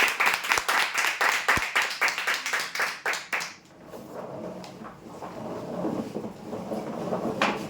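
An audience at a prize draw claps for the first winner, who has won a sewing machine, with a burst of rhythmic hand claps for about four seconds that then fades into a low murmur of crowd noise.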